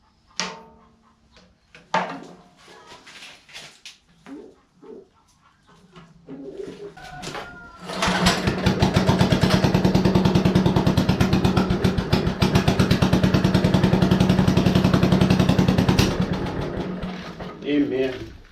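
A tractor engine starting after rattling and cranking attempts, then catching into a loud, steady, fast-chugging idle close by that runs before cutting off; a voice speaks briefly early on.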